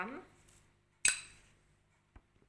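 A metal spoon adds semi-skimmed Régilait milk powder to a bowl for msemen dough, giving one sharp clink against the bowl followed by a couple of faint taps, after a brief murmur of voice.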